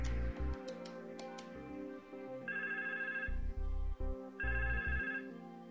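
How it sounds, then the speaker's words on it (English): A phone ringtone plays a repeating melodic pattern in bursts, clear and fairly close, with no talking. "The default ringtone rings."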